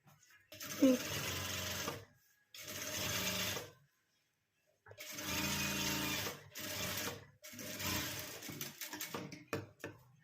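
Domestic sewing machine stitching a zipper onto a small handbag made from blouse fabric, running in several bursts of steady mechanical whirring separated by short pauses.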